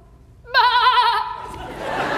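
A storyteller imitates a goat with a single loud, wavering nasal bleat lasting about a second, followed by a breathy trailing sound.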